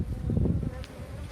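Honeybees in a queenless nucleus hive buzz in a close, steady, droning hum as a newborn bee emerges from its cell; the buzz swells briefly, then settles.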